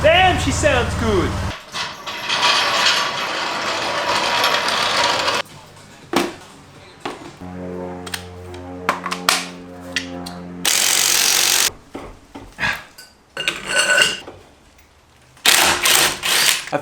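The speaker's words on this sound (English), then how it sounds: "one too many ugg-duggers to get these wheel lug nuts on" Bursts of an impact wrench tightening wheel lug nuts on a Toyota MR2, short loud rattling buzzes separated by gaps and clanks, with a sustained whir early on and several closely spaced bursts in the second half.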